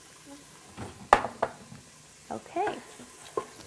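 Onion going into hot butter in an Instant Pot, with a few sharp stirring clatters and brief sizzling bursts, and a voice speaking briefly.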